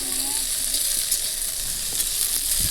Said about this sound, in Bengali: এবার রান্না করছি ভেন্ডি আলুর তরকারি।